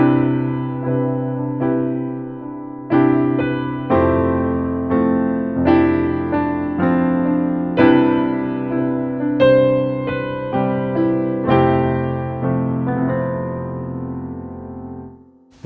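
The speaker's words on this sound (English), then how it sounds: "Today I will be showing you my all-time favorite piano voicings" Piano playing a slow series of rich major ninth chord voicings, each chord struck firmly and left to ring before the next, close and clear with no voices.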